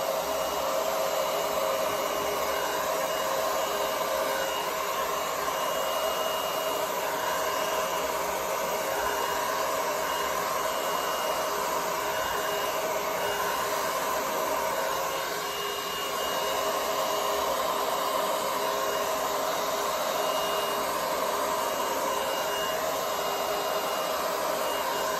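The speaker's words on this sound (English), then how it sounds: "Just to help me with the blow dryer here to get to everything." A hair dryer blows steadily at close range, a continuous breathy whoosh that holds the same loud level from start to finish with no talking.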